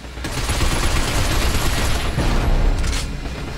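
Sustained gunfire in a shootout in the video game Binary Domain, a continuous dense fusillade of rapid shots and booms, loud and close throughout.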